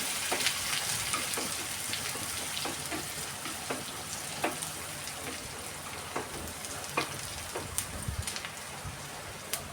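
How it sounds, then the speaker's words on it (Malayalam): Curry leaves crackle and sizzle in hot oil in a pan for egg curry, a dense rain-like frying hiss punctuated by sharp pops and the scrape of stirring, steady and close. "കരിവേപ്പിലിട്ട് നന്നായിട്ട് ഇളക്കി കൊടുക്കുക"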